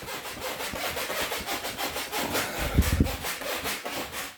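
A clean cloth rubs and buffs a cast resin piece by hand during polishing, producing steady back-and-forth rubbing strokes close up, with a few louder, heavier passes near the end.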